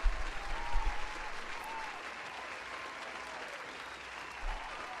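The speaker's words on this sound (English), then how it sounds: "Let's give him a round of applause." Applause from a crowd on a D&D homebrew broadcast, a steady wash of clapping that is loudest in the first second and then holds at moderate level before tapering slightly.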